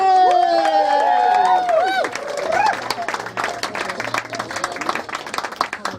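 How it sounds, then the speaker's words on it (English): Comedy-night audience in a yurt applauds and cheers to welcome the host, with clapping swelling over loud music that fades as the applause continues and tapers into scattered claps. "Thank you for making that applause last long enough"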